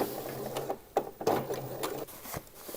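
A home sewing machine stitches a small gap in a pair of drawstring shorts, its needle sounding as short uneven bursts of clicking and tapping with brief pauses between runs.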